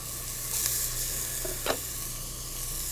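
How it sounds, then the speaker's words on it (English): Butter goes into a hot pan for a risotto base, giving a soft, even sizzle with a couple of brief louder crackles and clinks partway through. "Then we're going to add a touch of butter"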